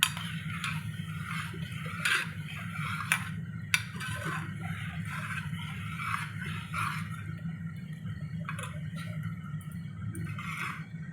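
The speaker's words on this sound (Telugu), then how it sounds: "వేసేసుకొని బాగా కలుపుకున్నాము." Custard liquid being stirred into boiled milk for mango pudding, a utensil scraping and clinking steadily against a metal pot with scattered sharper taps, close and without talk.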